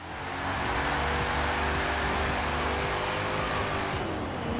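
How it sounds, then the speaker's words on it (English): A Holden VL Commodore with a 5-liter V8, driven in Forza Horizon 4, gives a steady, loud engine drone that holds level for a few seconds after a quick rise, with no talking. "Okay, it's rocking a big old 5-liter V8, but it's actually pretty lightweight"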